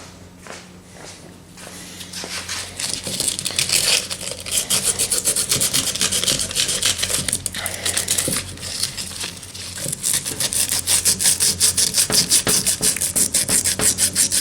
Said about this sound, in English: I'll take a little sandpaper with that.